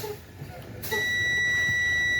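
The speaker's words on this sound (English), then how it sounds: "see how it says my brake air indicator came on and my alarms are going off?" A truck's air brake low-pressure warning sounds during a DOT brake test, a steady high electronic tone that starts suddenly after a short low rumble and holds loud to the end.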